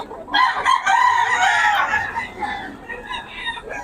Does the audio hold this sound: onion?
no